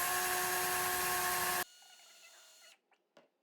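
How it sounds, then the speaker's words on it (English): Power drill boring through a shoe insole board whines loudly and steadily for over a second, then a quieter tone follows and a couple of faint knocks end it. "we want to take the drill and we're just going to drill through the insole board"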